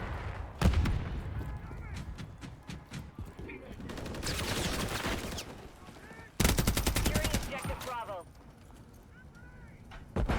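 Gunfire in Call of Duty MW3 multiplayer beta on a skyscraper map, with bursts of automatic weapon fire and sharp single shots, loud and close, mixed with a player talking and game effects.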